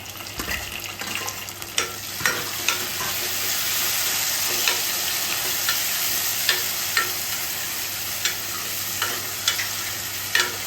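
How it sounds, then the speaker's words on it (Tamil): Tomato and green chili fry in oil in a pan, a steady close sizzle broken by regular scraping stirs of a spoon, with no talking. "எண்ணெய் வெளியில் வர வரைக்கும் தக்காளி ஃப்ரை பண்ணுங்கள்."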